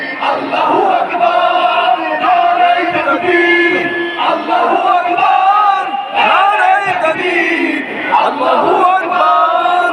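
A large political rally crowd in Bangladesh chants the slogan Allahu Akbar, Naraye Takbir in loud, repeated rhythmic bursts of massed voices, close and powerful.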